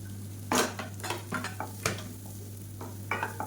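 Chopped onions sizzle in a pan while a utensil scrapes and clatters against it in irregular stirring strokes, close by, over a steady low hum.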